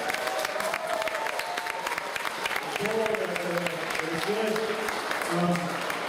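An outdoor crowd claps for people who have been camping in a park, a thin scattered applause heard from a distance under a speaking voice and some cheering.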